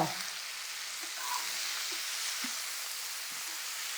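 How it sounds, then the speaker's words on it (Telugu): Vegetables, coriander and tomatoes fry in oil for a mixed vegetable pickle, giving a steady, even sizzle with faint stirring taps, close by and continuous without talk. "మగ్గాలన్నమాట వేగాలి ఈ నూనెలో ఇవన్నీ వేగితే"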